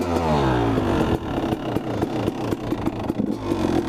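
A Honda CR250 two-stroke dirt bike engine warms up with the choke on, its loud, close, uneven idle full of rapid popping pulses and brief revving swells running steadily throughout.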